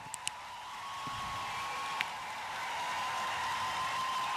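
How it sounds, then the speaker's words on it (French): Steady, distant applause from a crowd of about 3000 welcoming Pope Francis at the United Nations headquarters in Nairobi, a continuous wash of clapping with a few sharper claps near the start. "Et voilà une acclamation pour accueillir le pape François."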